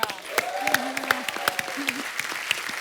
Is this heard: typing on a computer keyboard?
no